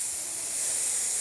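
A person imitates a cat's hiss during a children's yoga pose, one steady breathy hiss held close and loud for about a second.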